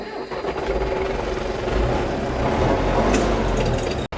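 An MTZ tractor engine runs close and loud in a steady, rumbling drone for about four seconds, cutting out briefly at the very end.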